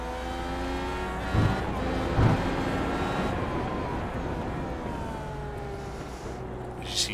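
Onboard race car at Brands Hatch during a lap, its engine droning steadily and loudly with shifting pitch as it accelerates and changes gear, with a couple of thumps over the bumps.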